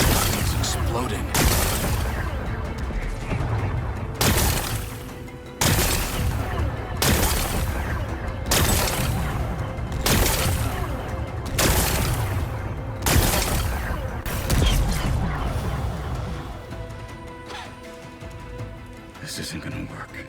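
Loud explosions in Horizon Forbidden West blast rocks apart to expose a power cell, coming as a regular series of heavy booms about every second and a half, each followed by rumbling debris.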